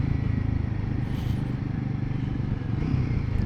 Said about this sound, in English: but you can still hear the engine